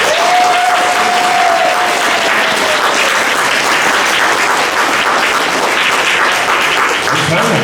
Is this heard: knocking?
no